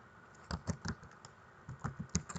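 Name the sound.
typing on a computer keyboard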